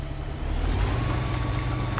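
Low, steady truck engine rumble from the Mud Runner video game as the vehicle drives through mud, a continuous drone with a faint higher whine running over it and no talk.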